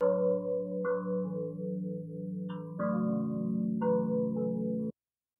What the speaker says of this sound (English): right now I have the same wind chime sample that I used in the first video